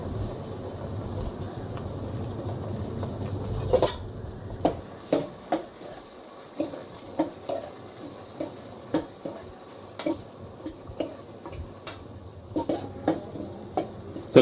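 Tomatoes frying with curry leaves in a pan for a lotus stem dish, a continuous close sizzle with regular spatula scrapes and knocks against the pan, steady and fairly loud, no voices.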